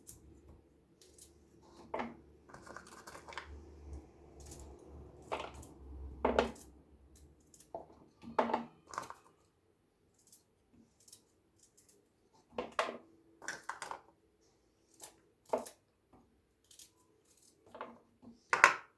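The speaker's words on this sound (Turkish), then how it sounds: "birkaç tane sarımsağımı doğrayacağım üstüne" Sparse knife strokes chopping garlic on a cutting board, irregular taps spread out with quiet gaps, fairly close and soft, over a faint low hum early on.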